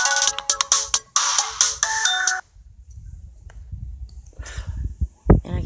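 A phone ringtone plays in repeated bursts of bright electronic tones from an incoming call, then cuts off. Quieter rustling and a short breathy noise follow.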